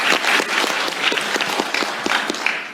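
Audience applause at a Seoul presidential future-technology briefing, greeting a high-school student who won a gold medal at the International Mathematical Olympiad: steady, dense clapping from a hall crowd, fairly loud and continuous throughout.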